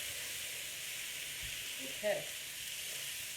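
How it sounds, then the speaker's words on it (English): Spiced potatoes for a samosa filling sizzle in a pan with a steady, even hiss throughout, with a brief stir or clink near the middle and a short spoken word over the frying. "we're just gonna let the spices simmer into the potatoes"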